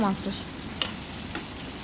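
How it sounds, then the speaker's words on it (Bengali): Four pieces of fish in a thick spice masala, frying with a soft continuous sizzle, a few distinct ticks of a utensil against the pan, and a brief voice at the start. "মাছ 4 পিস দিয়ে ভালো করে একটু নাড়াচাড়া করে নিয়েছি"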